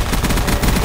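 A quick, close burst of automatic gunfire in a Call of Duty Black Ops 2 zombies map, rapid shots running together into a loud, continuous rattle with no voices.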